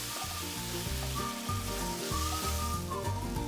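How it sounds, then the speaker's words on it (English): White wine vinegar bubbles down in a hot pan with paprika for beef stroganoff, a steady, loud sizzle and frying hiss that continues unbroken without pauses. "Add the white wine vinegar and allow it to bubble right down"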